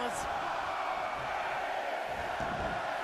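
Dense, roaring arena crowd during a wrestling Royal Rumble match in the video game WWE 2K22, a steady loud wash of cheering voices throughout, with no distinct speech on top.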